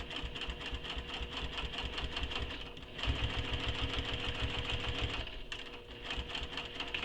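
Sewing machine stitching at a long top-stitching length, a fast steady mechanical whirring with rapid needle clatter, close and continuous, briefly shifting in pitch partway through and easing off near the end.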